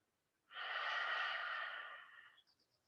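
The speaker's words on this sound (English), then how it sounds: "inhale, widening the throat, and exhale to the other side" A single long, deep exhale through a widened throat during yoga practice, a soft breathy rush close to the listener lasting about two seconds, then fading.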